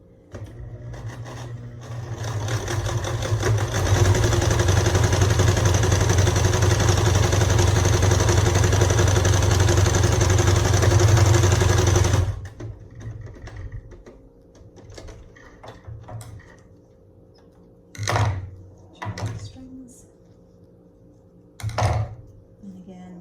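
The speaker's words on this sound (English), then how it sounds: "sew across your longer seams, your 8-inch seams, again, about 1/4 of an inch from the edge" A sewing machine runs in one continuous loud burst for about ten seconds, stitching the long 8-inch fabric seams of a homemade face mask a quarter inch from the edge, then stops, leaving a few soft handling knocks.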